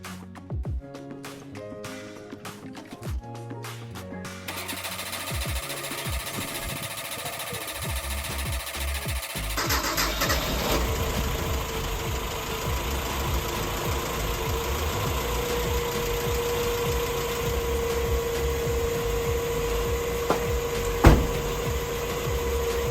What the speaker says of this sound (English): It's gonna crank a little while before we get gas in there